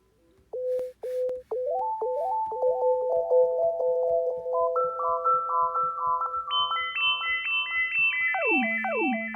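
Clean synthesized xylophone tones step upward in a rising pattern across several octaves, bright and steady, with no voices.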